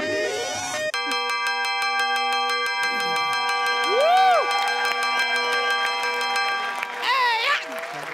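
A doorbell-like electronic chime rings in long sustained tones, with a voice speaking partway through and a rising sung or spoken phrase near the end.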